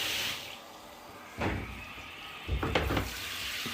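Water runs from a shower head in a domestic bathroom, a soft hiss that swells in two bursts with clattering of the fitting being handled, close by and with no talk.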